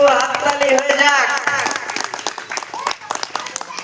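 Audience applause at a blood donation camp run by a merchants' association in Islampur, honouring a convener's fiftieth donation; a burst of scattered hand clapping follows a voice speaking and continues for several seconds at moderate loudness.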